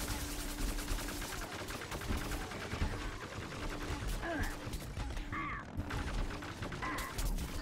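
The masked cactus in Plants vs Zombies Garden Warfare 2 fires slowly, spaced shots popping over a busy, dense game soundscape of mechanical clatter and effects, steady and close throughout.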